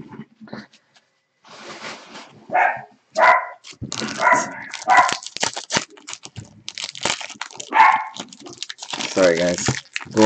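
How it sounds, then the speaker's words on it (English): Several dogs bark excitedly indoors after a doorbell rings, with loud, irregular bursts of barking across most of the stretch and voices mixed in. "my dogs go crazy."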